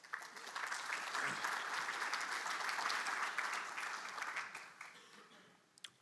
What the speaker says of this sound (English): I think you need to give yourself a round of applause for that.